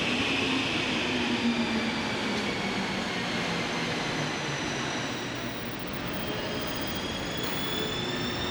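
Steady rumbling rush inside a moving commuter train in Helsinki, Finland, continuous and loud throughout, with a faint high whine over the wheel roar.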